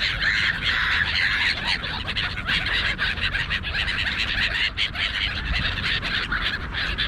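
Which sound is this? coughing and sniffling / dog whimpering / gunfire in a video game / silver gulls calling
silver gulls calling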